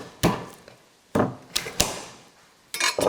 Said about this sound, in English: So we get the garlic on the edge of the board, and excuse the noise, you just whack it.